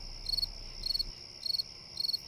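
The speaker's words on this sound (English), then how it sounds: "What do you suppose those crickets are talking about?" Crickets chirping at night in four evenly spaced bursts of rapid high trills, steady and moderately faint over a low quiet background, with no voices.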